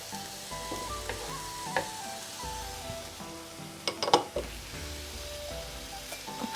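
Vegetables frying in a pot with soy sauce, a soft continuous sizzle with a few utensil clinks and scrapes against the pot as they are stirred, fairly faint and with no talking.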